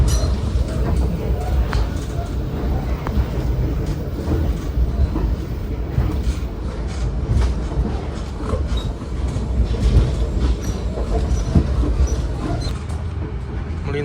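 Ciremai passenger train running on rails through West Bandung, heard from aboard as a steady loud rumble of wheels on track with faint clicks and squeals throughout.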